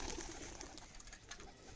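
A racing pigeon, a makra-eyed bird in a flock trained over 21 km, coos softly and steadily, faint and somewhat distant against a hissy background, with no talking.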